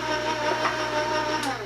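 An electric mixer on very low speed stirs flour into batter for a fruit-sweetened coconut cake, giving a brief, steady, close mechanical whir with a low hum underneath.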